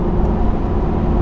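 A lifted Ford F-250 diesel pickup on 37-inch tires, slowing with its exhaust brake engaged while towing: a steady, loud low engine drone and exhaust rumble heard from inside the cab, with no talk.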